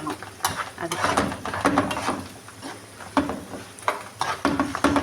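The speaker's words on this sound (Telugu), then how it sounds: "ఇదిగో ఫ్రెండ్స్, ఇది తాలింపు." Tempering spices in a pan are stirred with a utensil, giving irregular clinks and scrapes in short bursts with a faint crackle, fairly close and moderately quiet.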